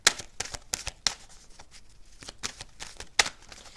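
Tarot cards being shuffled by hand up close, a series of crisp papery riffles and slaps in uneven bursts, quiet between strikes, with no talking.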